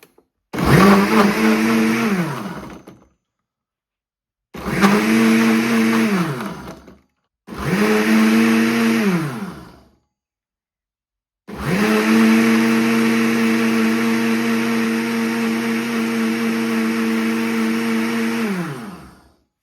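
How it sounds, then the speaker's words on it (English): A Ninja blender crushing ice for a strawberry banana smoothie whirs loudly in several bursts, motor revving up and down with grinding noise, then runs continuously for a longer stretch. "we could hear it blending up the ice"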